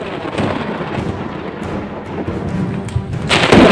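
Heavy rain during a lightning storm in Gujarat, with low rumbling thunder that rolls steadily throughout and swells into a louder crack near the end.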